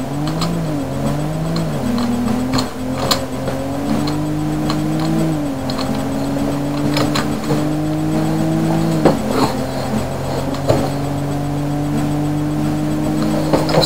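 A car engine drives in a BeamNG.drive rally game, steadily droning and shifting pitch through gear changes for about fourteen seconds, loud and close, with occasional bumps and knocks and no speech.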